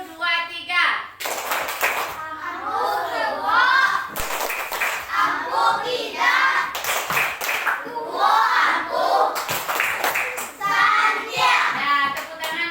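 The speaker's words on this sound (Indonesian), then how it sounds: "sekarang kita kasih tepuk tangan untuk kelompok yang betul semuanya" A class of primary school children clapping hands in unison during a coding lesson, loud rhythmic bursts of claps mixed with excited children's voices and an adult leading the group, with chanting between claps.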